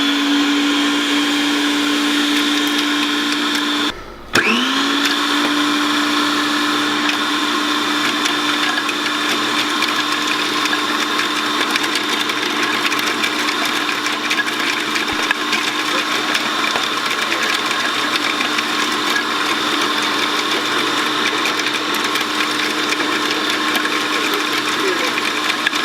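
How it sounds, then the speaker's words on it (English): Blender grinding Oreo biscuits, a high motor whine that stalls briefly then spins back up and holds a steady grinding hum for a long stretch. "So we're going to now try and grate some biscuits in this."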